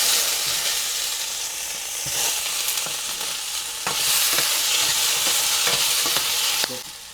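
Tomatoes fry in oil in a pan for peanut chutney, producing a loud, continuous sizzle with frequent scraping stirs. The frying swells midway and cuts off sharply near the end.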